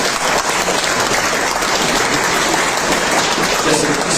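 Sustained, loud applause from an audience at a sporting hall of fame awards ceremony, dense steady clapping filling the room without a break.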